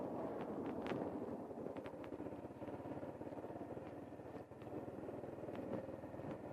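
A motorbike engine idles and pulls away on a hill start, a low steady rumble with fine rhythmic pulsing and occasional wind buffeting, heard alone at moderate level.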